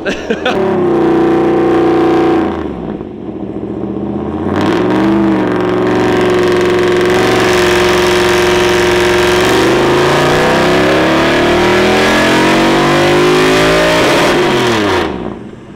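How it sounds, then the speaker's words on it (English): An LS2 V8 swapped into a BMW E46 roars through full-throttle pulls on a dyno, loud and close, its pitch climbing to the rev limiter, dropping, then rising again in a second long sweep before cutting off. "you get blasted in the face with LS noises"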